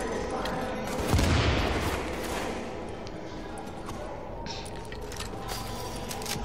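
A grenade blast followed by rapid gunfire in the third-person shooter video game Tom Clancy's The Division, a heavy boom early on and then continuous crackling shots of loud, dense combat.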